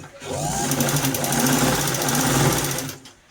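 Repaired sewing machine motor running with a loud, steady whirring hum and rapid mechanical clatter, starting up and cutting off after about three seconds, no talking.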